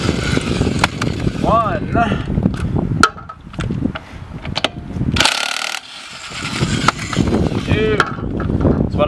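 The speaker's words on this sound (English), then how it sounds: "I do have a power drill, so that's how I take my bolt" A power drill removing brake nuts from a 2005 Ford Expedition Eddie Bauer Edition, giving loud ratcheting, whirring bursts with short pauses, while someone talks over the work.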